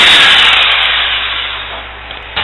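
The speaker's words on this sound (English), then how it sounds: "I'm going to use my jigsaw in order to cut a small hole in the wall" Loud, continuous buzzing rasp of a jigsaw cutting a small hole in a wall, steady at first and gradually easing off, with a brief knock near the end.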